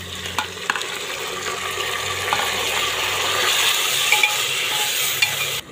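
Tomatoes dropped into browned onions and whole spices frying in oil set off a burst of wet sizzling with a few sharp clatters, followed by continuous bubbling hiss and occasional stirring knocks.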